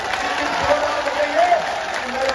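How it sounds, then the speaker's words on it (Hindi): A crowd at a BJP political rally in Machalpur claps loudly and continuously, with voices and shouts mixed into the applause throughout the short burst. "एक बार फिर जोर से माननीय हजारीबाग साहब के सम्मान में ताली लगाइए साथियों"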